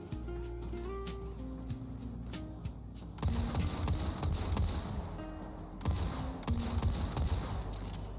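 Pistol fire in the video game Warframe: rapid rattling bursts of shots repeat through the clip, denser in two stretches, over a low rumbling game backdrop.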